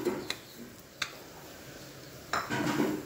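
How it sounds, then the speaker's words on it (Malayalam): Sugar being stirred in a pot for jelly, heard as a few sharp metallic clinks and scrapes of a spoon against the pot, spaced apart over a low background hum. "ഇനി നന്നായി ഇളക്കി കൊടുക്കാം"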